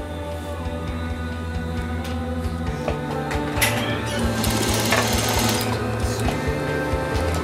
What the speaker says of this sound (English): I just want to sew down and readjust the tip